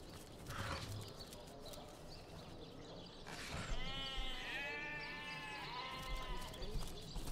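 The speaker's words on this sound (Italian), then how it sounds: "Sento le pecore, non è che c'è la pecora smarrita qua." Sheep bleating in the fantasy role-playing game Divinity: Original Sin, several wavering bleats rising over a faint rustling ambient bed, moderately close and fairly quiet.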